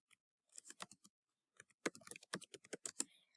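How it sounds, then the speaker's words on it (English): Typing on a computer keyboard: quick, crisp key clicks come in short irregular bursts, close and fairly quiet, with brief pauses between runs. "I'm going to type tech resources in this button."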